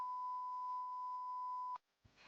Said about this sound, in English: Loud incorrect buzzer.